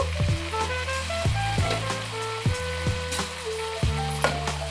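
Cut tomato pieces hit a hot oiled pan, giving a steady close sizzle with several sharp clatters and stirring knocks as they tumble in, no voices over it.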